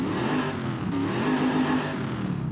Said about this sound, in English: So it sounds like stock exhaust.